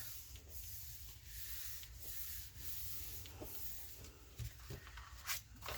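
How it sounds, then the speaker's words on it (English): Glued paper being rubbed flat by hand for a farm folio craft: quiet, close, repeated soft swishing strokes with a few faint taps, no speech. "I'm going to take this and I'm just going to rub that in to where the glue is going to dry there"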